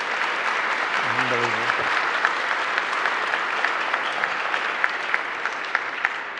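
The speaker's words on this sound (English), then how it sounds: "How about a giant round of applause for our supervisor?" Audience at a city swearing-in ceremony for board appointments breaks into sustained applause, steady clapping filling the room, with a brief spoken word near the start.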